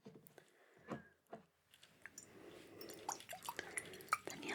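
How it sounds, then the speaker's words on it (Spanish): Water spritzed and dripped onto hair before a close-up haircut, quiet soft spray bursts, wet squishes and drips scattered over several seconds with intimate handling noises, no speech. "Te voy a poner un poco de agüita al cabello."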